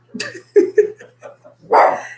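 A dog barking a few times during a live online show, with short close yips followed by a longer, louder bark-like burst, all over a low steady hum in a quiet indoor room.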